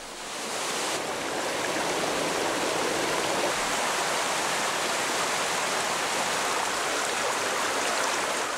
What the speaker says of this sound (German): Im nahen Balkangebirge verwandeln sich Rinnsale in reißende Bäche